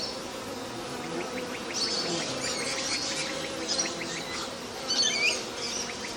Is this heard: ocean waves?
no